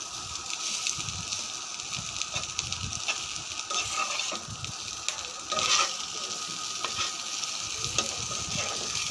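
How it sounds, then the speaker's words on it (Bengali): Pointed gourd (potol) bhaji fries and is stirred in a pan. A constant close sizzle carries intermittent scraping and stirring clicks, and no one talks. "মিশিয়ে এটা 2-3 মিনিট আপনি এভাবে ভেজে নেবেন, তাহলে আপনার পটল ভাজি কমপ্লিট।"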